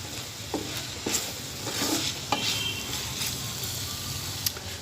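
Vegetables for chicken and vegetable fried rice are stirred in a hot pan over raised heat, with a steady sizzle and scattered sharp scraping strokes of a utensil.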